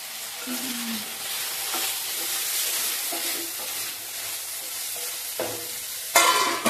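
Vegetables for pasta sizzle and fry in a pan with cheese, a steady close hiss with occasional stirring scrapes and a sharper burst near the end.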